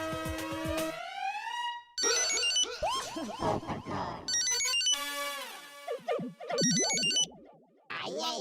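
A mobile phone ringtone plays loudly in a comedy sitcom scene, a bright, melodic electronic tune repeating in bursts that shift pitch, with brief gaps and a busy, cluttered stretch in the middle.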